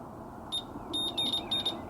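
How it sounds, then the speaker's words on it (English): A multimeter on continuity setting gives a handful of short, high-pitched electronic beeps in quick succession over a low background hum while truck fog light wiring is tested. "got it set to continuity where if these connect it'll beep"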